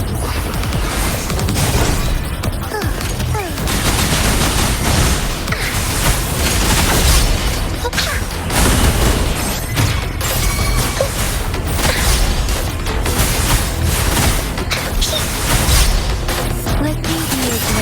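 Combat rages in Wuthering Waves against a boss built from cobbled metal parts, with dense continuous booms, crashes, whooshes and clanking impacts layered over game music, loud and unbroken throughout.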